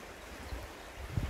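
A small forest stream in Swedish woodland at Gustavsfors gives a faint, steady, hissing flow of water that continues without a break for the whole moment, with no voices.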